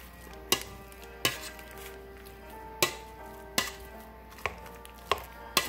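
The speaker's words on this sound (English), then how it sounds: "Just gonna mash it, put a little milk and mash it." Cooked potatoes being mashed with milk and butter in a pot, a series of sharp, evenly spaced knocks of the masher against the bottom, close and fairly loud, with no talking.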